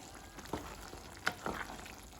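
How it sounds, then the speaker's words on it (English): Marmalade boiling in a pot on a kitchen stove, a quiet bubbling simmer with a few soft pops and spits scattered through the short stretch. "I don't want it boiling as profusely as that"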